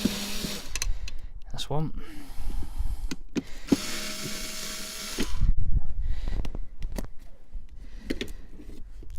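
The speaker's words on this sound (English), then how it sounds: "So we're just going to go ahead and take those two screws out." A power screwdriver backs screws out of the metal mounting on a caravan marker light, close whirring bursts that start and stop several times between short clicks and handling noises, with someone speaking briefly.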